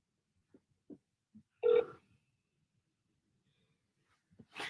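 A telephone call to a Macy's store, with a single short ring burst heard over the line, faint clicks before and after, and otherwise near silence.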